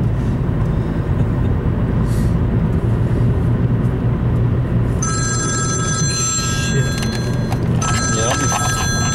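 A phone rings inside a moving car: a repeating electronic ring cuts in partway through and sits over a loud, steady road and engine rumble.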